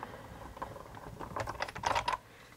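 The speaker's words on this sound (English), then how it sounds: "I'll run it through my die cutting machine." A card is run through a die cutting machine, producing a soft, uneven run of clicking and clattering that builds toward a louder burst near the end before stopping, with no voices.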